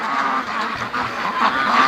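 Free-range ducks calling close by in a steady, overlapping run of loud honk-like quacks, continuous with no pauses and no voices.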